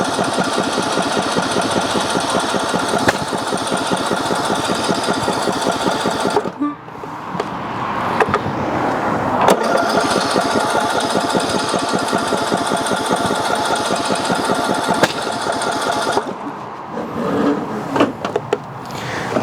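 An old tractor engine cranks and sputters without catching, a loud rapid mechanical chatter running for several seconds, breaking off, then resuming, with a final stop and uneven sputters near the end.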